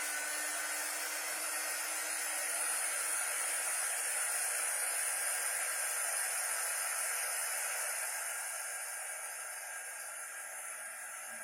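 A hair dryer blows steadily and fairly loud on a handmade branch craft, a continuous airy whoosh with a faint hum that eases slightly near the end, heard alone.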